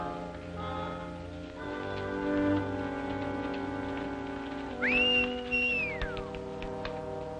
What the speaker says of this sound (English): Stop whistling for that horse.